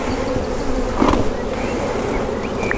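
Honeybees crawling over a brood frame from an open hive give a steady, close buzzing drone that holds evenly throughout, with no voices.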